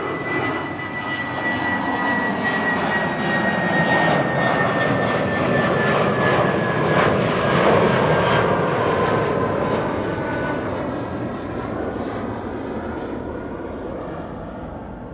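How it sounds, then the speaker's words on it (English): A British Airways jet departing Schiphol's Kaagbaan runway 24 roars steadily, a broad, loud engine rumble that builds and holds before slowly fading as the airliner climbs away, with no talking over it. "this is British Airways going to London City."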